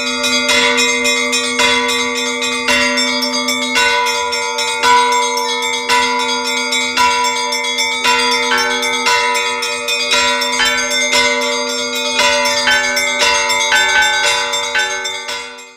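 Church bells ringing in a layered peal, several bells of different pitch striking in a steady overlapping rhythm with long ringing tones, loud and close, with no talking.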